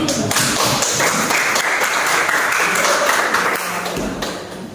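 Eighth-grade class applauding at a school farewell event, a loud continuous wash of clapping from many hands that stays strong, then eases slightly near the end.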